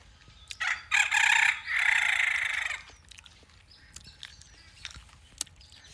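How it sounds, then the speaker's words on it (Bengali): A rooster crows loudly up close in one long rising call, followed by quieter scattered chirps and small outdoor sounds. "মুরগার ডাক, পাখির ডাক।"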